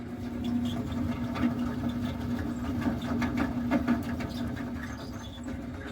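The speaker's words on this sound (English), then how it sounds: "my AC has started to sound like the squirrel got caught up in the ropes and is dying" Aboard a 70-foot Hatteras yacht, an air conditioner blower makes a continuous droning hum with a steady tone and a fast, irregular ticking rattle layered on top, moderately quiet and with no voices.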